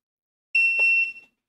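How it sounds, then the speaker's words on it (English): A single short electronic beep from an Orico hard drive cloning dock, clear and close, with a steady high tone lasting under a second in otherwise silent surroundings. "when the machine beeps, it means that the clone started."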